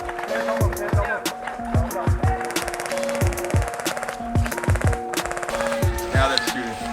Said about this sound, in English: Now that's shooting.